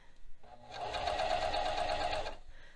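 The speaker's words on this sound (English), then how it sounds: "So now I'm just gonna start sewing." A sewing machine stitches a hem on fabric in one short, steady run of rapid needle strokes, close and fairly quiet, starting and stopping cleanly.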